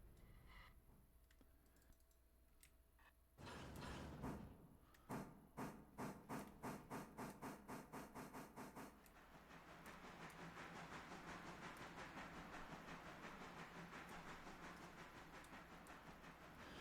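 Passenger train in the railroad game Railroader: after a quiet stretch, a rapid run of regular clicks sounds like wheels passing over rail joints. It gives way to a steady, swelling rolling rumble of the moving train.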